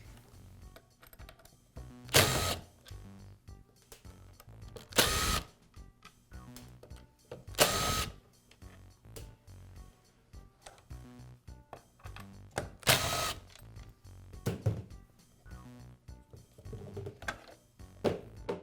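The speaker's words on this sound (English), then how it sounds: "I'll begin by removing the rear guard." Close, quiet mechanical work on a Milwaukee band saw as its rear guard is removed: small clicks, tool contacts and rattles, punctuated by several short loud bursts spaced a few seconds apart, with no talking.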